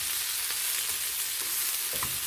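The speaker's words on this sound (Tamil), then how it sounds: "நல்லா எண்ணெயில் வதக்கணும்." Chopped banana flower sautéing in oil in a pan for a Tamil thuvaiyal, a steady soft sizzle with faint stirring scrapes and no voices.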